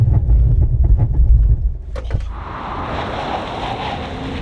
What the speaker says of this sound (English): Let's go back and do a stop from 100 to see what the brake and tyre package is like.